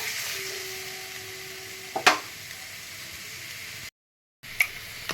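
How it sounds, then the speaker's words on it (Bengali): Whisked yogurt being stirred into a pan of potol (pointed gourd) curry: a faint, low simmering hiss with a couple of brief spoon scrapes around the middle, then a short gap. "দইটা দিয়ে একটুখানি নেড়ে নেব।"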